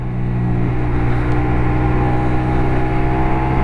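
A CFMOTO 450NK motorcycle pulling hard in second gear, a loud steady engine drone with a rising hum and heavy low rumble, continuous and close with wind noise.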